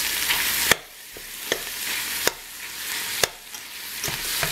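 Meat being broken up with a utensil in a frying pan for spaghetti sauce, with several sharp scraping knocks spaced irregularly over a steady close sizzle.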